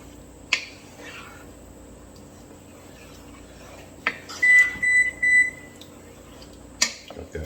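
A kitchen oven beeps several times as it reaches 350 degrees, a short run of high electronic tones in the middle of the clip, moderately loud against quiet room background with a few scattered clicks.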